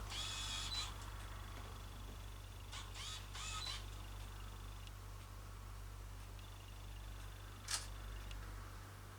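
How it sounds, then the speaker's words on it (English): A faint camera shutter clicks once, sharp and close, over a low steady hum and soft mechanical whirring. "half touch the shutter button to focus"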